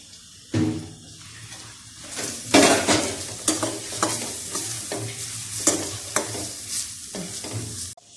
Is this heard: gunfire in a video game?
no